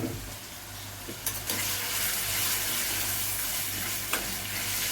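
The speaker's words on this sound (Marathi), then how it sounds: "आता हे चांगलं परतून घ्यायचं" Ground dill and colocasia greens with chili paste sautéing in a pan, a continuous close frying sizzle with a few stirring scrapes and taps, no voices.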